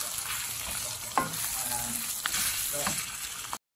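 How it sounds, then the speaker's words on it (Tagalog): Pork for lechon kawali sizzles and crackles steadily in hot oil, with a few louder pops and spatters, close up and with no talking, before cutting off abruptly at the end. "Luto tayo ng lechon kawali."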